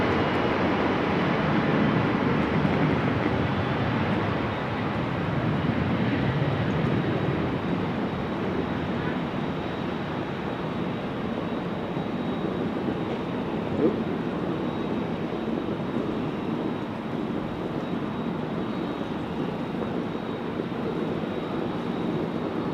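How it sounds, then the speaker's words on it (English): Jet airliners roar steadily on takeoff from runway 18 Left at a rainy Amsterdam Schiphol Airport, a continuous broad rumble that stays fairly distant, with rain and wind noise mixed in throughout. "2 more airplanes taking off from 18 left"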